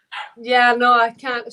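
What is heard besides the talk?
dog barking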